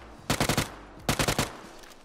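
UMP submachine gun fire in PUBG: two short bursts of about five rapid shots each, loud and close, separated by a brief pause, with no talking.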